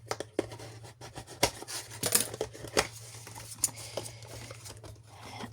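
A box of craft stickers is opened by hand at close range, giving scattered crinkling, scraping and tearing sounds with sharp clicks over a steady low hum, with no talking.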